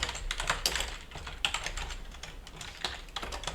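Fingers type on a computer keyboard in quick, uneven runs of light key clicks, close and fairly quiet, with no talking.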